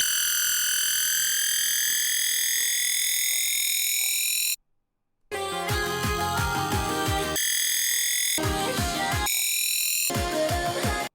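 A bright synth riser built from high-passed stacked sine tones sweeps upward, breaks off into a short silence, then drum and bass music with punchy drums follows.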